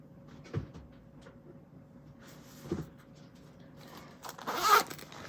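A pencil case zipper is pulled open, with a couple of short rasping tugs followed by a longer, louder zip near the end in a quiet room.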